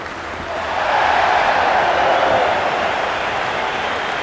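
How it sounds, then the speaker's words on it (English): Cricket crowd at an India vs England T20 match, a broad, steady roar of cheering swelling after the first half-second and holding loud and continuous throughout, with no clear individual voices standing out. "The crowd is electric right now."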